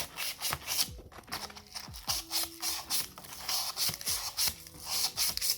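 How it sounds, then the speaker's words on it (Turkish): Quick back-and-forth rubbing of fine sandpaper on the metal shaft of a Ryobi LXO4N 4000 fishing reel, a steady raspy scrubbing in short repeated strokes, close up. "bir ince sıfır zımpara atacağım"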